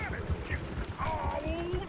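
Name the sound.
horses galloping in a video game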